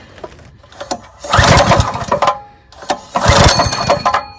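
A small gasoline engine with the choke on, never started before, is pull-started twice, each pull a loud sputtering burst of roughly a second that fails to catch, with quiet gaps between.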